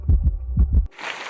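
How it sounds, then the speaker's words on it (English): A heartbeat sounds as two loud, close lub-dub pairs of low thumps in a steady rhythm, then cuts off abruptly into a thin hiss. "The heartbeat."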